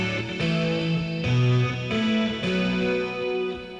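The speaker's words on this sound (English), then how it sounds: "It's for getting more of a dirtier rhythm sound." A guitarist plays an electric guitar through a Dumble amplifier set for a dirty rhythm tone, loud sustained distorted chords changing every second or so with no talk.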